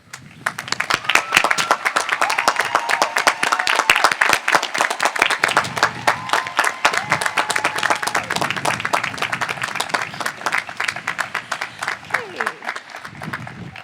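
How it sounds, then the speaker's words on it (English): At a college commencement ceremony the audience applauds the award winners with sustained, dense clapping from a large crowd, loud and continuous with no break, while voices murmur faintly beneath. "Everyone, please join me in a round of applause for all of our winners this year"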